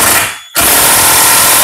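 A power tool tightens thread-locked bolts on a side awning bracket fitted to a Mitsubishi Triton pickup, running loud and steady after a brief pause at the start.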